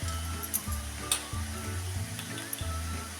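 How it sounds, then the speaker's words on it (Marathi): Garlic and fenugreek leaves sauté in a pan, a soft steady sizzle broken by regular scraping stirs about every half second to second, fairly quiet and with no one talking. "अजून एक मिनिटवर परतूया त्यात टाकूया थोडीशी हळद"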